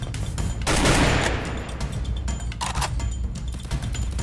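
Rapid gunfire from the Free Fire battle game, a dense fusillade of shots up front followed by scattered bursts and single cracks continuing throughout, loud and close with no talking.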